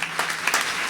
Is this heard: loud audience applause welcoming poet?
yes